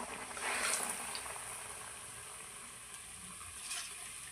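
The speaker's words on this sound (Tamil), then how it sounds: "இந்த மாதிரி பதத்தில் இருக்கும்போது நீங்கள் எண்ணெயில் போட்டு பொரிச்சிக்கலாம்" Banana batter fries in hot oil, giving a quiet, steady bubbling sizzle that runs unbroken throughout, with no talk.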